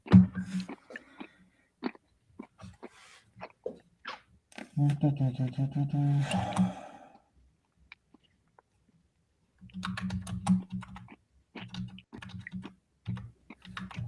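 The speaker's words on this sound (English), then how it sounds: "I can hear you chewing." Someone chews food close to a microphone during an online call, producing short bursts of crunchy, wet clicks with pauses, plus intermittent keyboard-like tapping and a low humming tone.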